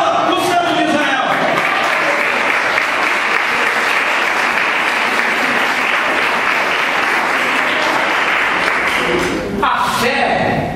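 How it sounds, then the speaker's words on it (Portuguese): A church congregation breaks into dense, loud, sustained applause during a worship service. The clapping holds steady at full strength and fades briefly near the end. "Aplauda o Santo de Israel."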